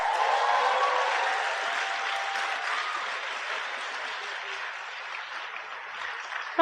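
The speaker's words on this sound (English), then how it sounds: "Let's give them another round of applause." An audience at a student cultural night applauds steadily, a dense even patter of clapping that gradually fades slightly before a sharp noise at the very end.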